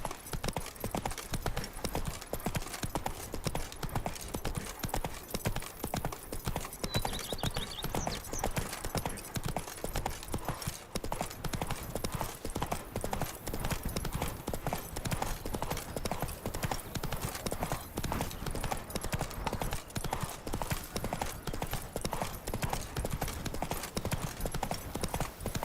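Hooves of Roach, the horse in The Witcher 3: Blood and Wine, clip-clop in a steady, continuous rhythm close by, with a brief whinny possible and a busy game ambience underneath.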